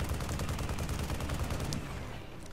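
Rapid automatic fire from a chain gun in the video game Tribes Ascend, a dense, continuous stream of close shots that rattles on for about two seconds before easing off near the end.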